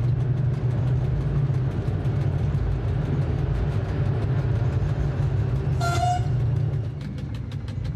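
An ONCF DF 100 diesel locomotive pulls its train into the small plain station of Msada, with a loud continuous engine rumble and a brief horn toot near the end.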